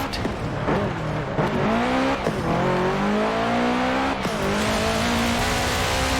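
A Subaru Impreza engine in Forza Horizon 4 roars steadily and loudly, revving up and down with rising and falling harmonic tones and a few sharp shifts, no voices.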